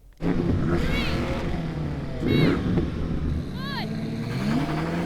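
A BMW M5 revs hard against the brakes for a brake-boost launch with stability control in sport mode, a loud steady engine drone with rising and falling whines as the revs climb, continuing throughout.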